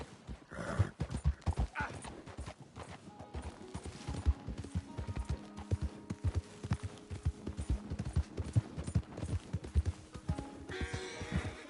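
A horse ridden at speed in the Red Dead Redemption II video game, its hooves pounding in a steady rapid rhythm, close and clear, with occasional snorts and a whinny near the start and end.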